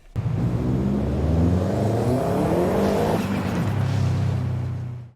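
Racing car engine in a Nintendo Switch racing game, revving loud and close with a rising whine that climbs steadily, then drops sharply and settles into a lower sustained drone until it cuts off.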